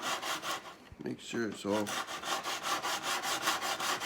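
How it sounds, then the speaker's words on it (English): A mandolin body is sanded by hand, giving steady rhythmic back-and-forth rasping strokes, close and fairly loud, with a short spoken phrase breaking in partway through. "what I do have to do here is you got to go around and sand this"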